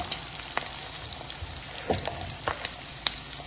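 Chopped onions and green chillies sauté in a pan for masala dosa filling, a soft close sizzle with scattered light crackles and faint stirring taps.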